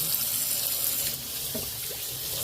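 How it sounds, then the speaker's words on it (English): Hot tap water runs steadily over chicken breast pieces being rinsed in a kitchen sink, a close, continuous hiss and splash with faint handling noises partway through. "what I'm going to do is I'm going to just rinse that with hot water"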